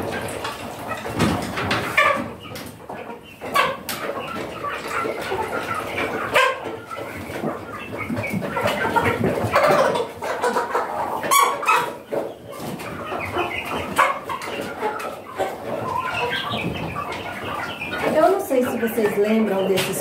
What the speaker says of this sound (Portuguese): Vocês lembram desses franguinhos?